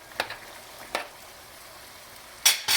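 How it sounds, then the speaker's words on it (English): Chicken sausage mixture for a butternut squash pasta stirred in a pan, a few short scraping, sizzling strokes against quiet frying, with a louder pair of stirs near the end. "I'm going to give it a stir."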